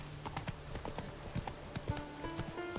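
Roach the horse's hooves clip-clop in a steady quick rhythm in The Witcher 3, soft and fairly faint beneath game ambience and music.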